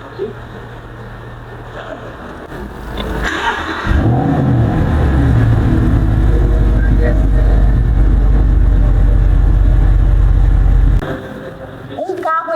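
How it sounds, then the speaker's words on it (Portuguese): A Mercedes-AMG SLS engine idles, then revs up into a loud, deep sustained roar for several seconds before dropping back, heard up close alongside a voice speaking. "quando a gente mudar o modo de condução, até o barulho do carro muda"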